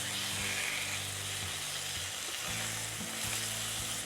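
Chicken fries golden in a pan with a continuous close sizzle and a low steady hum beneath it, a few brief scrapes as it shifts, and no talking.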